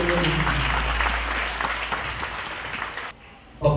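A church congregation claps for Jesus Christ during a sermon, steady full-room applause from many hands that drops away abruptly near the end.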